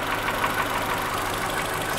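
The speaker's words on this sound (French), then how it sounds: "Moteur tournant tant qu'à faire." A Renault Twingo engine runs steadily at idle with a dense, even hum and faint rapid ticking, close by and with no speech.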